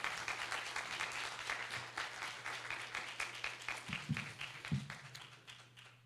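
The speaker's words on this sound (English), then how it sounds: "Let's give our panelists a big round of applause" Audience applause for a panel of speakers at a diversity summit, a steady wash of many hands clapping at close range for about six seconds, with a low hum underneath and a few louder thumps near the end.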